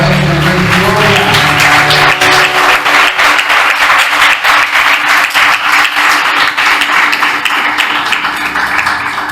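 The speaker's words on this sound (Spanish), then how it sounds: "Denle ese aplauso fuerte, gloria." A church congregation breaks into loud, sustained applause, many hands clapping densely at close range for several seconds without pause.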